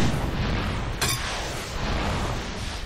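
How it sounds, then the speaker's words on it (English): A catastrophic weapon failure explodes in Far Cry 2 as a sharp blast bursts out about a second in, standing over a steady, loud rumble of in-game noise. "And realistic catastrophic weapon failures."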